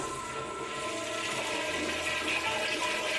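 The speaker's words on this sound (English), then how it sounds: "the janitor only heard the toilet flush" A toilet flushing in a school bathroom, a steady rushing wash of water that holds at an even level for the whole stretch with no voices.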